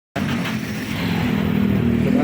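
A 2007 Toyota Innova engine idles at a steady raised 2000 RPM, a continuous close-up hum and drone with no change in pitch and no talk over it.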